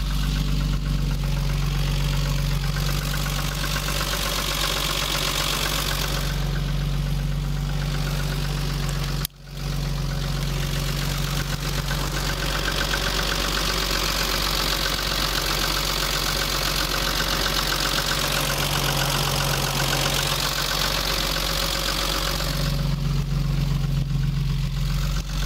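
A BMW 325i E30 with the M20 inline-six idles at a high, steady rate, a continuous close engine drone with low harmonic bands, broken by one brief dropout partway through.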